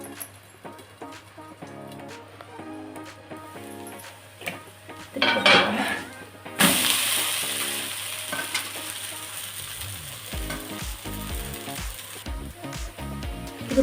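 Adai, a thick lentil dosa, cooks covered on a pan with a steady sizzle and frying hiss, while pots, lids and utensils clatter and scrape nearby, louder in bursts toward the middle and end.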